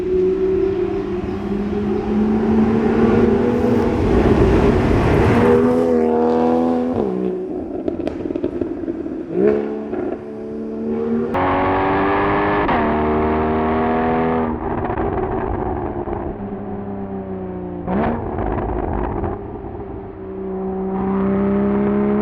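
A Porsche Cayman 981 with a performance exhaust revs repeatedly, its pitch climbing and falling through several loud, sustained pulls with brief crackles between them, up close and without talk.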